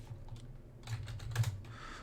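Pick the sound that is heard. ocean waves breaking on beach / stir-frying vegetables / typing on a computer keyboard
typing on a computer keyboard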